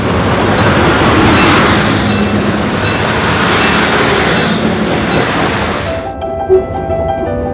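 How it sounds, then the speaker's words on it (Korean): A Mugunghwa passenger train on the Gyeongjeon Line rolls steadily along the rails, a loud continuous rumble and rattle of wheels that cuts off sharply near the end, leaving faint quieter sounds. "기차가 철로 위를 미끄러지듯 달리며 철도 건널목을 향해"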